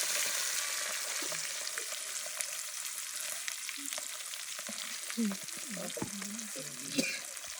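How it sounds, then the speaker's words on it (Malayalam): A large cut piece of fish fries in oil in a Zambian village kitchen, giving a loud, even, continuous sizzle with a few faint knocks and low background voices. "അതിങ്ങനെ എണ്ണയിൽ പൊരിയുമ്പോഴാണ് നല്ല രസമുണ്ട്."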